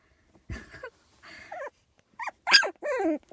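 A small puppy sitting in a hat gives a short run of soft growls, whimpers and yips in brief separate bursts, close and fairly quiet, with no one talking.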